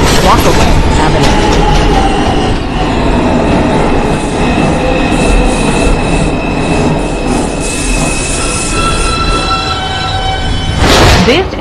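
An R142 subway train on the IRT 5 line bound for New Lots Avenue rumbles loudly from inside the car, with wheels squealing and rattling along the track and a brief burst of noise near the end.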